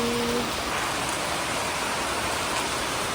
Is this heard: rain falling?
yes